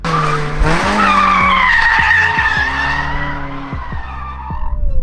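Loud, sustained tire squeal from a car drifting through a corner on a track, with a revving engine rising and dropping in pitch through repeated gear and throttle changes, close and continuous.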